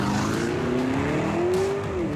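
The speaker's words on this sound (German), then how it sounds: "Der Urus beschleunigt schneller als ein Porsche 911 Carrera 4S" A Lamborghini Urus SUV accelerating hard, its engine note climbing steadily in pitch through a long pull with a brief shift dip, heard from inside over road rumble.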